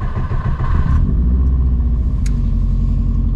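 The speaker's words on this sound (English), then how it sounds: "now we can try start the car for the first time with the new harness" A Subaru Impreza GC8 engine running after starting with a newly fitted wiring harness, giving a loud, close, steady low rumble with a slight flutter, and no talk over it.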